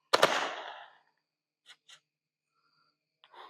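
A Desert at Night hybrid fountain firework fires off with a loud, sharp burst of crackle that fades over about a second. A few faint pops follow, then a softer rustle near the end.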